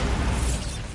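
A Bombarda spell in the Hogwarts Legacy game goes off as a short, dense blast of low rumbling noise, loud and close, tapering within about a second.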